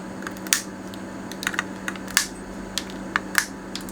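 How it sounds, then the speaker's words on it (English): Cutters snip resistor leads on a circuit board during a Bose Panaray repair, producing several sharp, close clicks scattered over a few seconds against a faint background hum. "Then just snip these leads off."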